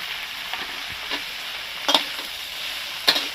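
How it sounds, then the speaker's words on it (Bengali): Tomato, ginger and green chili frying with spices in a pan, giving a steady soft sizzle broken by a few sharp scraping and clinking stirs of the spoon. "এবার একটু ভেজে নিই"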